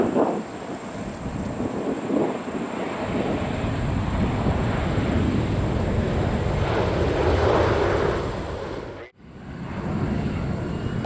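A heavy jet airliner takes off from runway 4 left at JFK, a loud, sustained broadband engine roar that swells steadily, briefly cuts out near the end, then resumes, with no talk over it.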